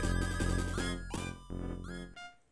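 A mobile phone ringtone goes off loudly, a bright musical melody of repeated tonal phrases playing alone in a few short bursts, with no talking over it.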